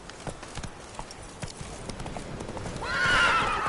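Horse in The Witcher video game clip-clops at a gallop with steady close hoofbeats, then lets out a loud whinny near the end.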